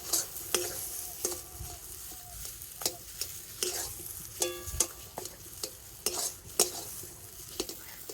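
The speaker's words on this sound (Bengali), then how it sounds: "এইভাবে নাড়াচাড়া করে আলুটাকে একটু শুকনো করে নেব" Potatoes being stirred in a hot pan to dry them out, a steady sizzle broken by repeated scraping knocks of a spoon against the metal, close and fairly loud, with no voices.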